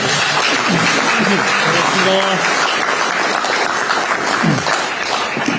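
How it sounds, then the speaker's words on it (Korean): A large crowd at a Korean political event applauds a former regional committee chairman, loud, dense and continuous clapping with a few faint voices rising briefly underneath. "박수 한번 보내주시고."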